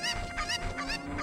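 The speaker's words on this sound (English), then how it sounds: "There's your chicken back." A chicken clucking in The Legend of Zelda: Ocarina of Time, a few quick, squawky, honking calls in close succession, fairly faint.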